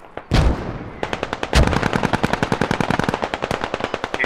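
Loud, close bursts of rapid machine-gun fire in a large-scale British infantry video game battle, a couple of heavy single shots followed by a steady, fast stream of rounds.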